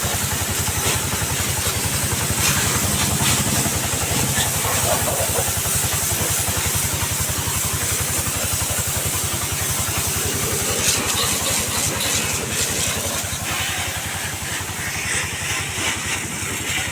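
A CNG BS6 auto rickshaw engine runs steadily while being washed with a motor sprayer, giving a continuous, close mechanical idle with clatter and hiss throughout and no talk.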